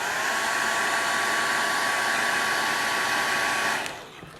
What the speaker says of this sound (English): I'm going to go ahead and hit this with my dryer real quick.